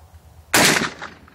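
A single sharp gunshot rings out close by, aimed at a helmet target outdoors, then quickly decays into a short fading echo.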